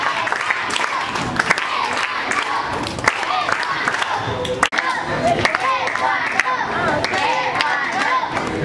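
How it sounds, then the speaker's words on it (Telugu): An audience at a district taekwondo competition claps continuously amid loud crowd noise and voices, with a few sharper thumps standing out. "ఒకసారి అందరు క్లాప్ చేయండి."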